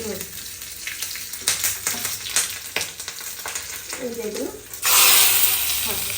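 A small chilli hits hot tempering oil for a havyaka tambuli, giving crackly sizzling and stirring clatter, then a loud steady hiss of frying that swells near the end, with someone talking over parts of it.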